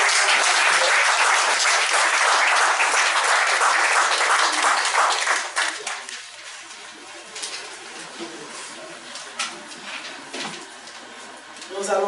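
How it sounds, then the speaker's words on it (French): Loud, dense applause for the choir fills a church service for about five seconds, then breaks off into scattered claps, shuffling and faint voices in the hall. "Je vais vous demander d'applaudir à nouveau la chorale."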